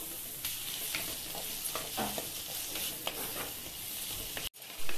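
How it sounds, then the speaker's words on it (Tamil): Tomatoes and onion sauté in a hot pan for palak paneer gravy, giving a steady close sizzle broken by scraping stirs, with a brief clatter at the end. "இப்போ தக்காளி வதங்கிட்டு இருக்கட்டும். நல்லா தக்காளி வதங்கட்டும்."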